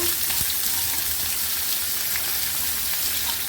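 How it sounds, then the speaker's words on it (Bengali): Chopped onion frying in hot oil with tempering spices for a Bengali banana blossom curry gives a steady, dense sizzle that holds evenly and close throughout, with no talking. "এটা আমি তেলের মধ্যে দিয়ে দেবো, ওই ফোড়নের মধ্যে। পেঁয়াজটা ভালো করে ভাজা ভাজা করব।"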